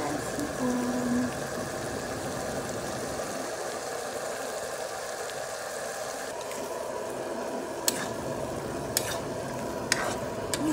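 Shrimp fry in garlic butter in a pan, a steady close sizzle that runs throughout, with occasional sharp clicks of a utensil stirring.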